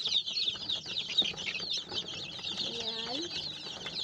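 A crowd of young vaccinated chicks pecks at feed, filling the air with constant high peeping and cheeping up close. A faint voice briefly murmurs underneath.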